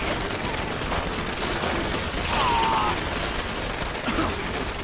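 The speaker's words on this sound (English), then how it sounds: "It's all these fireworks and whatnot." Fireworks pop and crackle in a rapid, dense volley within the video game Dead Rising 2, a continuous loud barrage with game sounds mixed in.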